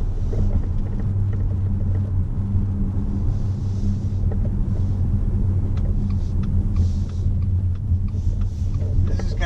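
A 2019 Subaru Ascent rolls over a bumpy road, heard from inside as a steady, loud low rumble of road and engine noise with no clear separate jolts.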